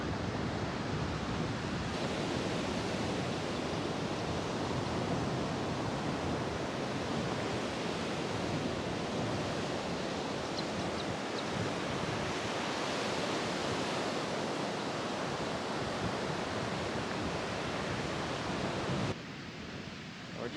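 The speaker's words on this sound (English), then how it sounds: "It's nice just staring at the waves, listening to the ocean." Steady ocean surf rolls onto a Gulf of Mexico beach in Florida, a continuous loud wash of breaking waves with some wind, with no voices.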